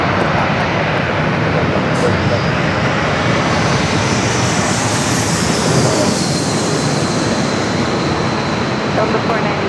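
Breeze Airways Airbus A220-300 jet at San Diego airport produces a loud, steady roar with a rising whine, running continuously from start to end with nothing audible breaking it.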